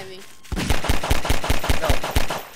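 Rapid automatic gunfire in the video game Garry's Mod, a loud, close run of about ten evenly spaced shots following a brief quiet moment, with no clear talk over it.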